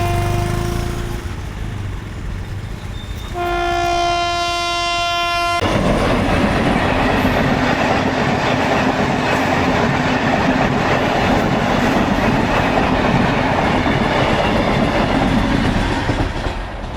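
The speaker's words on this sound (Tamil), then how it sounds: "ஒரு ட்ரெயின் போயிடுச்சு, அதனால் இன்னும் கேட் எடுக்கலை." A train horn blasts in steady tones at a railway level crossing, then the loud, broadband roar and clatter of the passing train rolls on continuously near the crossing gate for the rest of the clip.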